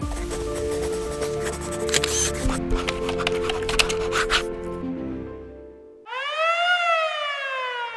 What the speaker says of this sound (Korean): 이 사이렌이 딱 울리면